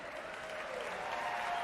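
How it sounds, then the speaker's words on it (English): A crowd at the 2019 Rogue Invitational CrossFit competition applauds the winning teams, with sustained, even clapping that swells slightly toward the end and no talking over it. "One more big round of applause for all three of these teams."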